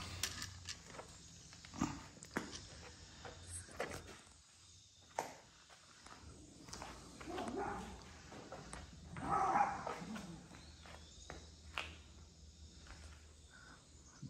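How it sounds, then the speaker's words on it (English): Dogs bark indoors at cats during a Harley-Davidson Sportster custom fuel tank install, giving several scattered barks at moderate distance over insect chirping and quiet background, with a louder burst near the middle. "Dogs are barking at the cats inside."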